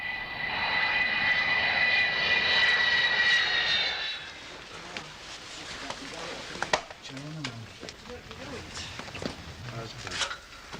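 Engines of a Vulcan bomber run loudly and steadily for about four seconds with a high whine, then drop away, leaving quieter rumble and scattered clatter while people talk nearby.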